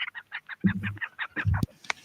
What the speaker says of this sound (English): These rather interesting characters, if you don't mind, are the young frigate birds.